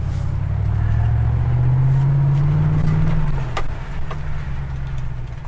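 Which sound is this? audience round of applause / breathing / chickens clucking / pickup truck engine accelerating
pickup truck engine accelerating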